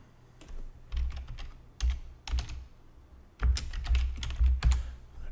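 Bursts of rapid typing on a computer keyboard, close and fairly loud, with irregular clusters of clicking keystrokes separated by short pauses while bookmarks are managed in the Chrome browser.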